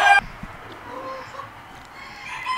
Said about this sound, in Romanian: un trio format dintr-un căcoș și două găini de paduane